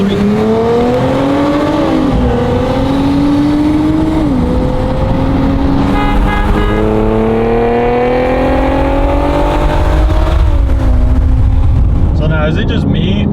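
Stock Nissan Z Nismo accelerating hard through a pull, its engine note climbing steadily in pitch with brief dips at shifts, loud and continuous throughout with a strong low rumble.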